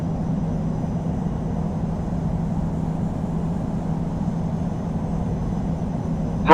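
Steady low roar of a simulated Airbus A350-900 jet airliner spooling up for takeoff on runway 7R at Hong Kong in the Infinite Flight game, a continuous broad rumble of even loudness with no talk.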